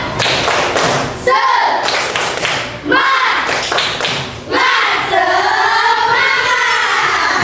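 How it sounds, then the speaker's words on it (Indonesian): Children at school give a rhythmic spirit clap, loud, close bursts of claps in patterned groups alternating with shouted voices. "Tepuk semangat."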